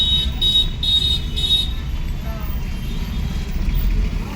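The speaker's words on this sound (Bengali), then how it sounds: "এসে দেখছি মাথা খারাপের মতন জ্যাম" A heavy traffic jam on a Barabazar street in Kolkata, afternoon, fills the scene with a steady low rumble of idling engines, while a few short horn beeps sound early on.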